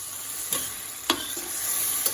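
Tomato rice mixture cooking in a pan, a steady soft sizzle with a few brief scraping stirs spaced about half a second apart, close and moderately quiet, with no voices.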